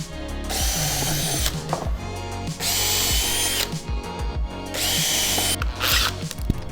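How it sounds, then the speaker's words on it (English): A power drill pre-drills holes in wooden crossbars for a DIY kicker ramp, sounding as several loud, close whining bursts with brief pauses between them and no talk. "we're gonna go ahead and pre-drill all the holes for those crossbars"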